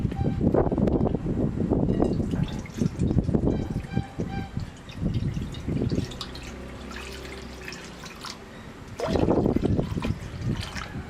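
Water poured into a pot of sticky rice to soak it in a home kitchen, splashing and trickling in bursts with pauses between pours, fairly close and moderately loud.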